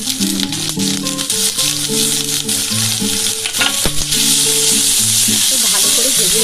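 Mutton mince fries loudly with ginger and garlic, making a dense, close, continuous sizzle with crackling and stirring, over steady tonal background sounds.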